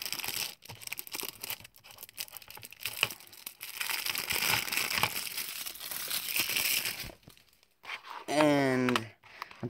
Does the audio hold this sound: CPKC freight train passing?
no